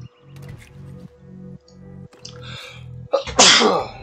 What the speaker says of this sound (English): that started making me sneeze